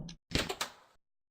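A car door slowly opening gives a short, quiet mechanical creak and clunk, a brief burst of a few close knocks followed by silence.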